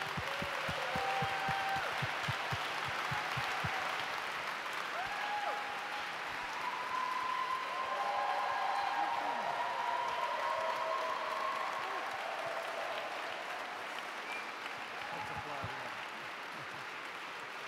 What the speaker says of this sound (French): I'd like to ask you to just stand and applaud Lauren Cunningham.